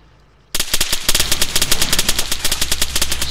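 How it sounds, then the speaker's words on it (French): Rapid machine-gun bursts in the Arma III Wasteland mod start abruptly after a brief quiet moment, firing in dense, continuous rattling volleys that stay loud and close throughout. "Les tirs venaient de derrière là."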